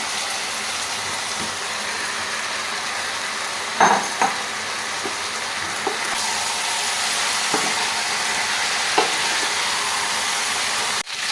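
Fried cauliflower florets are stirred into a fennel masala in a pan, over a steady loud sizzle with a few sharp clacks and scrapes of the spoon, and no talking.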